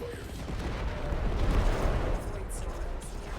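Missile launches in Warframe, a heavy rumbling barrage of booms and blasts that swells and then fades, with a couple of sharp higher whooshes near the end.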